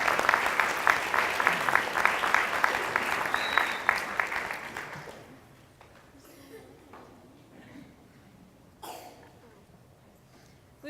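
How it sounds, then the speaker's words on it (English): An audience claps loudly at an FFA banquet, with a few seconds of dense applause that fades out, followed by quiet room noise with scattered coughs. "Please give a big round of applause to the members of the Cleveland FFA Alumni"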